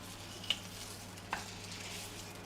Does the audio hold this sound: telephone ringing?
no